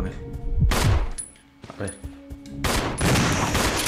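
Loud shotgun blasts ring out at a zombie in Resident Evil 0 HD Remaster on PS4, two heavy bursts separated by a quieter pause, with a brief spoken remark between them.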